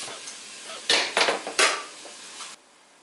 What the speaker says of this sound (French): Ensuite, je mets le couvercle.